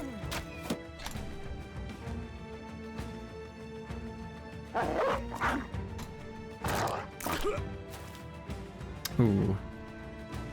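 A dog barks and yelps in a video game amid bursts of crashing, thudding combat sounds, with a person talking over it.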